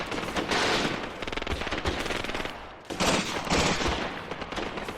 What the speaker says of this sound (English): That was that initial MG that was firing on our left flank as they advanced.